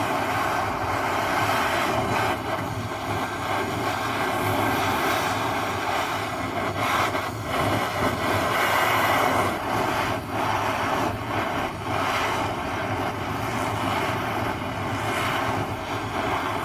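A blowtorch named Bernie warming up before working a Middle East coin into a ring, a continuous loud roaring hiss that holds steady and close with slight flutter, with no talking.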